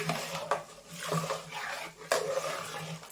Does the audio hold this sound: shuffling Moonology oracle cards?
no